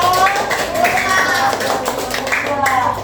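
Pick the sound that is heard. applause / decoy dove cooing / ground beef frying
applause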